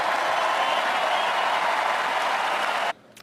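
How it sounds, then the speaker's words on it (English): Loud, steady cheering and applause from a political rally audience fills the space evenly, then cuts off abruptly near the end. "it is so nice to hear you cheering for what I just said"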